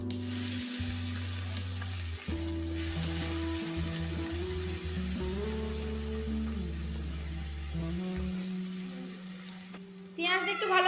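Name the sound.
chopped onions frying in hot oil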